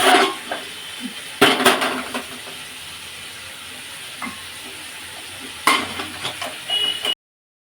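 Salted, turmeric-coated potatoes sizzle steadily in a hot pan, with occasional scraping and stirring clatters breaking through the hiss.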